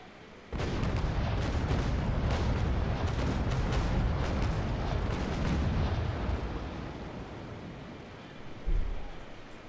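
Ship cannons fire in a sustained broadside during a naval battle in the game Naval Action, a 1v1 duel between the Trincomalee and the St. Pavel, with a loud continuous roar of overlapping booms and a final heavy thump.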